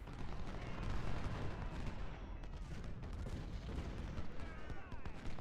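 Artillery fire and rifle volleys from Ultimate General: Civil War form dense, continuous battle noise of booms and crackling gunfire, with a voice talking faintly beneath it.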